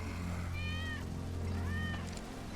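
Wedge's cat from Final Fantasy VII Remake meows twice in a row, short rising-falling cries set over a steady low game-world hum, close and clear with no talking.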